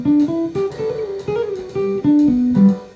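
Jazz guitar plays a quick single-note phrase over major chords, clear and close with a steady stream of distinct plucked notes and no talking.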